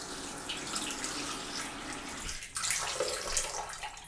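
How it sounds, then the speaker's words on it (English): Running water pours from a faucet into a bathroom vanity sink during a pop-up drain test, a steady close rushing splash that briefly shifts in tone midway, with no talking. "just put a little bit of water in there"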